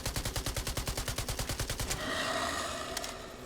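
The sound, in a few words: gunfire in the video game Fargone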